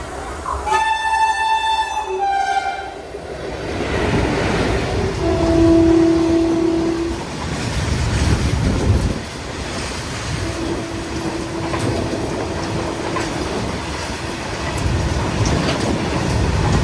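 A goods train rolls past a passenger train journey, its horn sounding in sustained tones before a loud, continuous rumble and clatter of wagons, with a second horn blast later, close and steady throughout.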